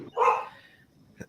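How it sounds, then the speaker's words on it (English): A dog gives one close, sharp bark, followed after a short pause by a brief, fainter second yelp. "You hear my dogs barking?"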